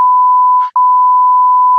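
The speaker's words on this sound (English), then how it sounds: "I would want to know what is being said every time that bleep happens." A steady, loud censor bleep tone holds for nearly two seconds, broken by one brief dropout where a fragment of speech slips through before the tone resumes.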